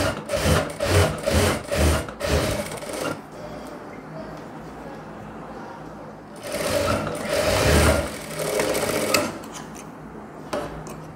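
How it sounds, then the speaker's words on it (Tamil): A sewing machine stitches blouse fabric in bursts, running in several short loud runs at first, going quiet for a few seconds, then running again in a longer stretch, close by and with no talk over it. "இப்போ படிமான தையல் போட்டுக்கலாம்"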